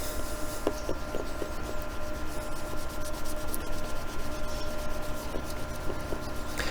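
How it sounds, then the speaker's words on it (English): Cream cut-and-polish rubbed onto plastic, a continuous close scrubbing and rubbing hiss with a steady back-and-forth texture and occasional faint squeaks, no talk heard. "Rub it in and give it a polish."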